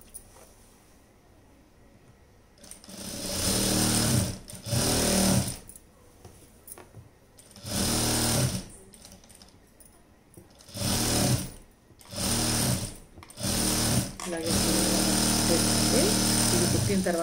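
Sewing machine stitching a Punjabi dress, running in loud repeated bursts of rapid whirring stitches separated by short pauses, with a person talking between runs.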